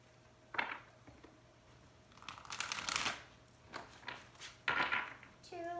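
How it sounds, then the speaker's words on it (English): Tarot cards are riffled and shuffled in several quick bursts, close and crisp, with brief pauses between. "I'm going to shuffle this about 3 times."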